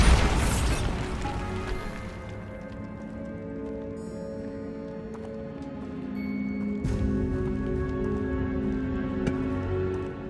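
A Bombarda blasting spell goes off in Hogwarts Legacy, with a loud opening burst and boom that fades into a rumbling, ringing tail inside a tomb. A second, smaller impact hits later in the clip.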